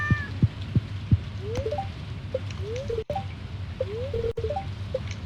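A cat in a farming video game meows several times in short rising calls, fairly close and clear over a low steady background hum.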